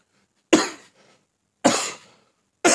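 A person coughs in three sharp, close bursts spaced about a second apart, each dying away quickly into silence, with no talking around them.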